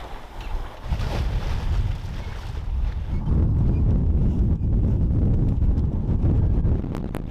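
A sailboat moving under sail in the Broughton Archipelago off Vancouver Island, with steady broadband wind rushing across the microphone and water washing along the hull, continuous and fairly loud.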